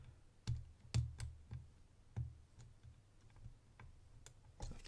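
Antique cast-body Yale & Towne padlock being picked, giving a series of small, sharp ticks and clicks spaced irregularly, close and fairly quiet, with no talking.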